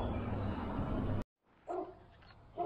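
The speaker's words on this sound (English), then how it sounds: "I think the dog is probably sensing a possum or something out there." A dog barks outdoors at night near a solar street light, giving a couple of short, fairly faint barks after a loud broadband stretch cuts to near silence.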